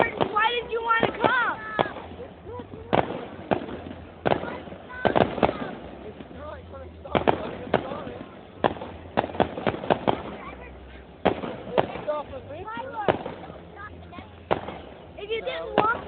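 Fireworks at a public show pop and boom in uneven volleys, several sharp reports close together followed by pauses, while a crowd of adults and children chatter and call out over the blasts.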